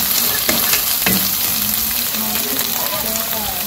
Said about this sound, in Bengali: মশলাগুলো আবার একটু ভাজা ভাজা করে নেই